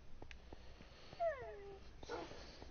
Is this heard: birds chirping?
no